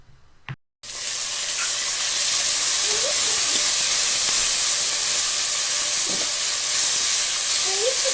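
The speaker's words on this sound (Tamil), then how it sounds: "நாம் இதில் ஜிஞ்சர் கார்லிக் பேஸ்ட்டை ஆட் பண்ணிவிட்டு அதோட பச்சை வாசனை போகிற வரைக்கும் வதக்க" Onions with ginger garlic paste sautéing in a pan for Dindigul Thalapakattu chicken biryani, a loud steady sizzle starting abruptly after a brief click and continuing without break, with faint clinks.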